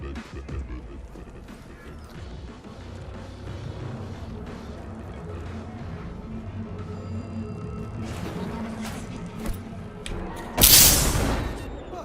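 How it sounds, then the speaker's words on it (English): Grenade blasts in Cyberpunk 2077 go off amid game clatter and thuds, ending in one loud, sharp explosion near the end. "I can't help it, I like throwing grenades at people."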